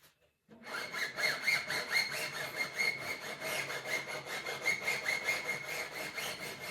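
Rough cut end of a guitar string being filed down, a steady rhythmic rasping of repeated strokes that starts after a brief pause and continues close and clear with no talking.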